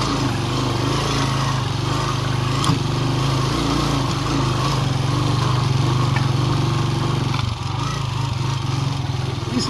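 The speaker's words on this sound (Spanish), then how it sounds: "Vamos a poner a prueba la moto." A motorcycle engine works hard climbing a hillside slope, a steady buzzing drone heard close and loud with only slight shifts in pitch and a brief dip near the end.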